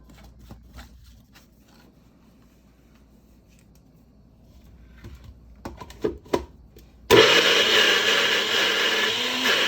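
Garlic and oil being ground into paste in an electric grinder, preceded by a few clicks and knocks before the motor starts abruptly and runs loud and steady to the end.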